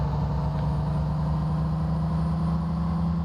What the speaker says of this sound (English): I put my foot down and the engine makes good noises, not bad ones, and we're moving.